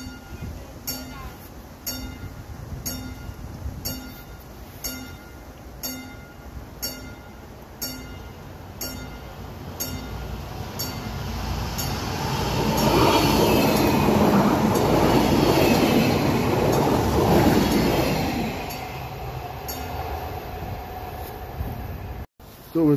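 A train rumbles through the Zur Landwehr level crossing in Münster-Mecklenbeck, wheels clacking over the rails and swelling into a loud, close roar before fading, while the crossing bell tolls in a steady rhythm and a voice speaks briefly.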